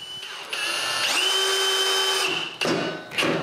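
A power drill drives screws into a wooden TV stand for a cabin, its motor whining steadily for a couple of seconds, then stopping briefly before a short final burst, close and clear with no talking.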